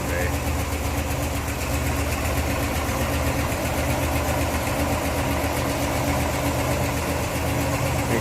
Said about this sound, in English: 350 V8. This is a very responsive engine too.